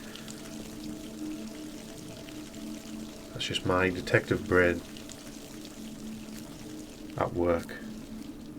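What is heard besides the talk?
hot water running from a tap, in VR video game Dead Secret Circle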